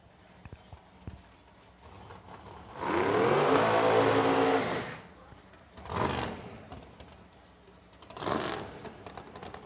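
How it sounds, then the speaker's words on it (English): Dragster engine at a drag race in Edmonton, Alberta: a loud broadband roar swells for about two seconds, then two shorter bursts follow, with quieter ambient noise between them. "behind the wheel of the dragster, right side of your racetrack"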